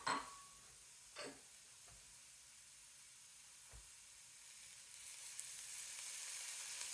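Red onion sizzling in olive oil in a pan, a quiet, steady frying hiss with a few soft clicks and taps near the start, the sizzle growing slightly brighter toward the end.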